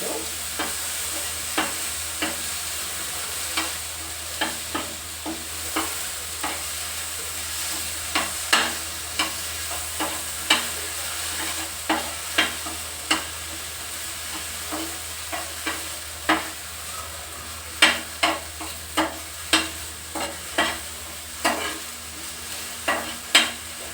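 Mushrooms with pepper fry in a pan under a steady sizzle, punctuated by regular spatula scrapes and taps that repeat roughly every second throughout, with no voices.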